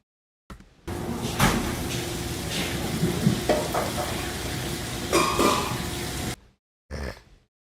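Busy kitchen ambience: a steady sizzling hiss with scattered clinks and clatters of utensils and pans, then a short burst of clatter after a pause.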